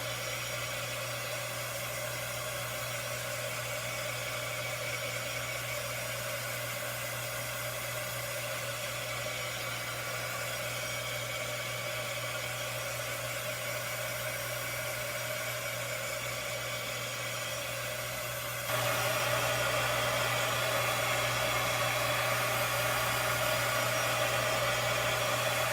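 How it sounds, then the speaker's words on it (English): A heat tool runs steadily while drying a stamped craft project, a continuous loud whirring blow with no pauses, its pitch and intensity rising slightly near the end as it moves over the piece. "I'm going to take my heat tool and I'm going to go ahead and go over the bike just to make sure that it's dry"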